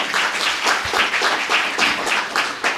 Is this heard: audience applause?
yes